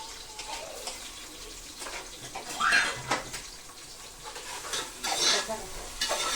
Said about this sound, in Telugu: ఇదిగోండి వెజిటేబుల్స్ కూడా వేసేస్తాను.